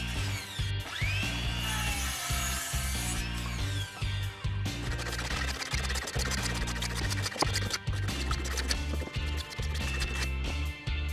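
A jigsaw cuts the front corners off a wooden deck chair armrest, a dense, steady mechanical buzz with rapid rhythmic chatter and a few brief pauses, close and fairly loud throughout.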